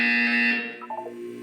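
A harsh electronic buzzer in the Portal 2 test chamber blares for about half a second, then cuts into a few short, fading tonal blips.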